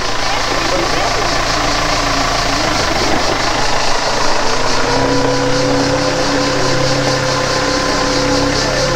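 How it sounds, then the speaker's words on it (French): A steady tractor engine rumbles close by on a fig farm with a droning, idling tone that holds throughout, a low mechanical hum continuing without pause. "Et voilà le tracteur qui va ramasser les figues."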